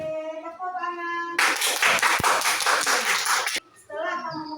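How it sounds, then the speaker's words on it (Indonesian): Children in a classroom clap their hands together in a brisk burst of many small claps lasting a couple of seconds, with a voice speaking before and after it. "Oke, tepuk tangan."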